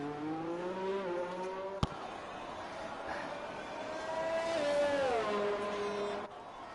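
A Mercedes race car laps in a racing video game at Spa, its engine whining up and down through the gears in a steady tone with a brief sharp click partway through, fairly faint and with no talk.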